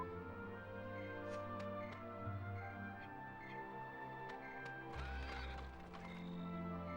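A horse neighs and whinnies in Dragon Quest 8, with clip-clopping hooves in among steady background music and ambient effects.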